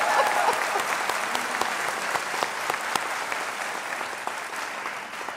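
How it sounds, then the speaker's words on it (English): Audience at a College of Nursing event giving a round of applause, a sustained wash of many hands clapping at moderate distance, steady throughout and slowly easing off toward the end. "Let's give her another wonderful round of applause."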